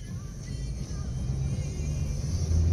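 A Volvo S-series car engine hums low and steady, the rumble rising slightly as the vehicle starts rolling forward.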